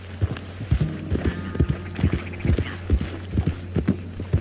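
Video game horse hooves clip-clop in a quick, steady rhythm, loud and close, with a low hum in the background.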